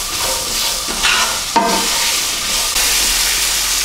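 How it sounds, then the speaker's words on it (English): Onions frying in a pan over medium heat, a steady close sizzle and hiss with a few louder stirring scrapes midway, no talking. "Onions have been cooking for about 3 or 4 minutes, just going soft now."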